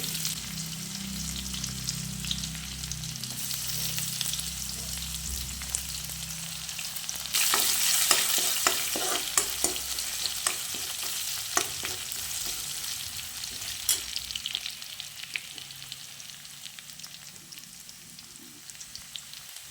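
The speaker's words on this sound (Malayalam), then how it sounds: "നന്നായി ഒന്ന് മൂപ്പിക്കുക ഇഞ്ചിയും വെളുത്തുള്ളിയും. അതിനുശേഷം സവാള ഇടുക." Ginger, garlic and onion fry and get stirred in a pan with a steady sizzle. Scraping stir strokes grow denser and louder midway through, then ease off, with no voices.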